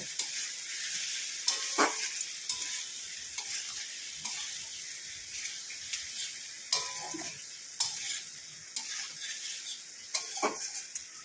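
Curry masala for an egg curry, mixed with homemade coriander powder, sautés in a pan with a constant hissing sizzle and regular scraping stirs and light clinks of the utensil; no voices are heard.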